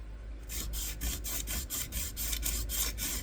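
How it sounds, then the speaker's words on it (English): A surface is sanded before painting with quick, rhythmic back-and-forth strokes, about eight scratchy passes close up with a low hum beneath. "It is the sanding."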